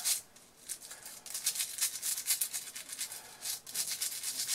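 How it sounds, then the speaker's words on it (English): A toothbrush scrubs white lithium grease off disassembled parts of an Atlas EMD S9 model locomotive, giving a close, steady run of soft bristly strokes with brief pauses and no talking. "So it's just a good brush all over."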